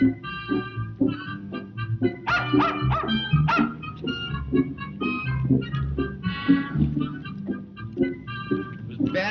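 A small dog barks and yips repeatedly in an irregular, lively series, close and fairly loud, with some whimpering mixed in, and no talking.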